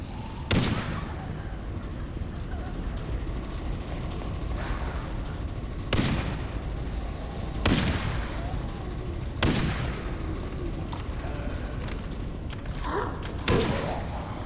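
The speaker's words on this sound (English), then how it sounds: "Also have grenades, and we can throw them." Gunfire and grenade blasts from the isometric roguelike video game Section 13 ring out as sharp, loud shots spaced every couple of seconds over a continuous dense mechanical rumble.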